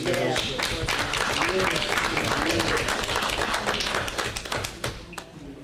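Audience applauding at a receivers' meeting: dense, steady clapping from many hands for about five seconds, tapering off near the end.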